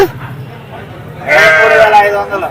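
Sheep bleat loudly and close by at the Pileru sheep and goat market, with a long wavering cry after a quieter start and people talking in the background.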